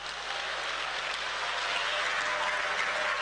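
A church congregation applauding during a worship gathering, broad continuous clapping that stays even and fairly distant throughout, with a faint low hum beneath.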